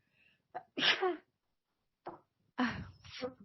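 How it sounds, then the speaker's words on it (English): A single sneeze: a short sharp intake of breath, then a loud explosive burst followed by a second forceful burst, close and clear in a quiet room. "I half need to sneeze."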